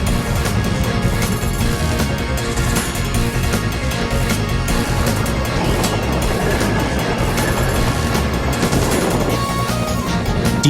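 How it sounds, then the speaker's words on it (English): A train approaching, a loud continuous rumble with rhythmic clattering and bursts of sharp rattling, building steadily and heard alone without speech. "The train! Cried Diesel."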